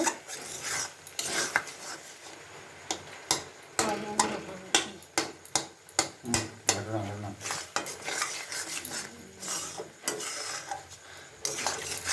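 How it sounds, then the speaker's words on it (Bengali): A chickpea dal masala is stirred and scraped in a pan with a spatula, making repeated rhythmic metallic scrapes and knocks against a soft cooking hiss, close by and without speech. "এখন হালকা করে কষাই নিই, কষাই দিয়ে জল দিয়ে দিব।"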